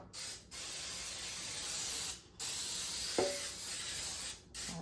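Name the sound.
cooking spray sprayed onto a baking pan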